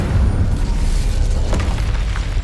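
An Incendio fire spell blast in Hogwarts Legacy, a loud, deep booming rumble that fills the short stretch with a rough, explosive roar and slight crackle, with no talk.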